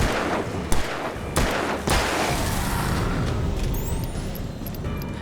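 Gunfire in the video game Alan Wake Remastered as enemies are shot: several loud, sharp booming shots at irregular intervals, each trailing into a rumbling echo, followed by a bright electronic whine.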